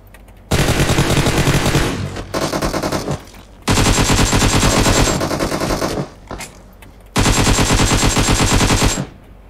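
Automatic gunfire in a video game comes in three long, loud bursts of rapid shots, separated by short gaps.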